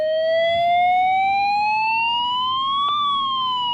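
A Midland WR10 weather radio runs its siren test, a loud, shrill electronic wail that climbs steadily, peaks near the end and starts to dip, heard close up with no voices.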